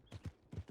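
Horse hooves clip-clopping in a roleplay video game, four quick, fairly quiet hoof strikes in a short irregular rhythm with no talk.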